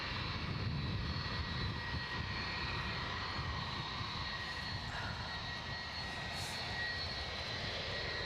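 At Edinburgh Airport, aircraft engines drone steadily from taxiing and departing planes. The roar is continuous and moderately distant, with no voices.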